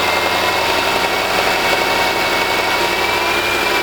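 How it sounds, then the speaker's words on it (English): A Land Rover/Jaguar 3.0L/5.0L engine with low oil pressure is held at a steady 1500 RPM, giving a constant, even, loud engine drone with no change in pitch and no voices. "So Tucker, can you give us 1500 RPMs? Hold it at 1500"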